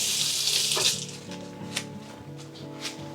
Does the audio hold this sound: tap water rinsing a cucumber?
yes